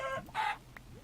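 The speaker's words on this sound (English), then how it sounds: "Is that a chicken?" A chicken in Minecraft (Better Than Wolves mod) gives a few short clucks, close and fairly quiet, spaced unevenly across about a second with nothing else over them.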